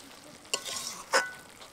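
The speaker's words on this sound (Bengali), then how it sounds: "এখন মাংসটাকে খুব ভালোভাবে টমেটো পিউরির সাথে নেড়ে চেড়ে নেবো।" Chicken being stirred with tomato puree in a frying pan for a Bengali-style chicken dish, two distinct scraping stir strokes over a soft sizzle, close and fairly quiet, with no talking.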